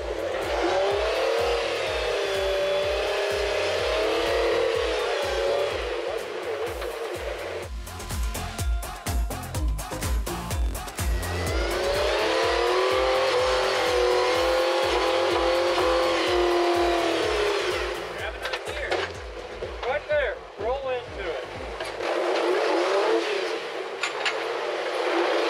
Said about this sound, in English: A little bit of rev limiter.